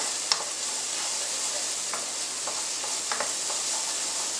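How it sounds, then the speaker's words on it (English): Carrots and other pre-cooked ingredients fry in a pan for a Chilean porotos con pilco bean stew, giving a steady soft sizzle. Light scrapes and clicks from stirring come through at irregular moments, with no talking. "Always stirring it, get those flavours going."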